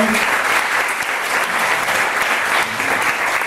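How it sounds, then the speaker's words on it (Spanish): Audience at a Spanish-speaking school gathering applauds to welcome a speaker, a steady, dense wash of clapping from a full room that holds evenly loud throughout. "Le damos un aplauso"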